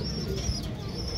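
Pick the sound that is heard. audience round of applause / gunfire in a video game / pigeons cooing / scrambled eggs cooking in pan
pigeons cooing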